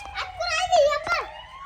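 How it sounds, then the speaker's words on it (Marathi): A toy fire engine siren wails close by in a rising and falling tone, with a voice nearby. "आली आली आली सायरन"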